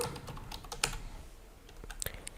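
Computer keyboard being typed on nearby in a quick, irregular run of light key clicks with a few sharper taps, no one talking.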